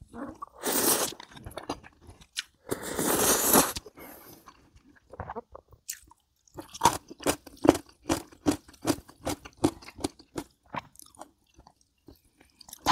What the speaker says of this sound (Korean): 라면 먼저 먹을게요